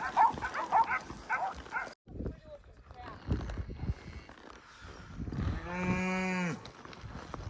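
A cow being herded over rough, rocky ground gives one loud, drawn-out moo close by, after stretches of voices and rustling movement.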